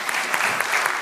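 A brief burst of close, dense audience applause at a technical talk with a software demo.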